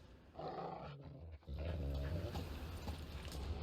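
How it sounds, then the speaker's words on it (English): Dogs in The Witcher 3 video game let out low, rumbling growls, a short burst followed by a longer, louder snarl after a brief pause, close and with no talk. "Just beware of the dogs."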